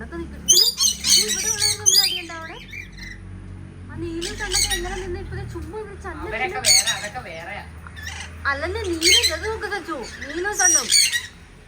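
Several caged birds squawk loudly and harshly in repeated bursts, close by, with brief lulls between outbreaks and a low hum underneath.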